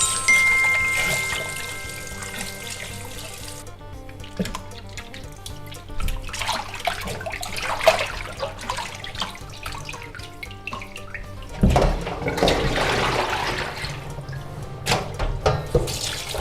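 Running tap water pours and splashes steadily while pork intestines are washed and rinsed in clean water, with occasional handling clatter and sloshing bursts, no speech.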